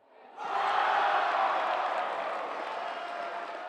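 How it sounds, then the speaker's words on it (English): Crowd cheering at a basketball game between Special Olympics athletes and local police officers after an impressive shot: a steady roar of many voices that rises sharply, then slowly eases off. "The crowd went wild as the athletes sank some pretty impressive shots like this one."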